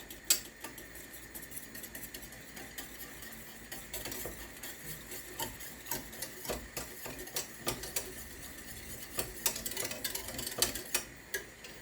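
A whisk scraping and tapping against a pot while beef stroganoff gravy thickens, a quiet, close, irregular run of metallic clicks and swishes that quickens toward the end, with no talking.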